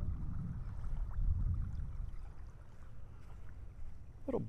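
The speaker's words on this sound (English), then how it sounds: "There's a boat heading out, heading our way now." A boat passes on open water near a Naples, Florida beach, a steady low rumble and wash that swells gently under breezy wind noise and stays fairly distant throughout.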